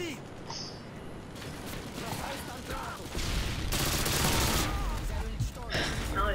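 Gunfire on the Terminal map in Call of Duty: Modern Warfare 2: a dense, loud burst of rattling shots and impacts swells midway through over a busy game soundscape, following quieter mechanical clicks and movement.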